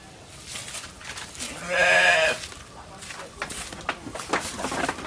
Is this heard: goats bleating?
yes